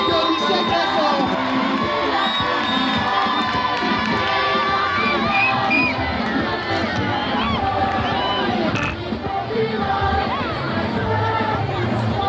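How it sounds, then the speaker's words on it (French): Loud crowd of schoolchildren cheering, shouting and applauding at a student committee investiture ceremony, continuous excited whoops and chatter throughout. "Applaudissez très fort."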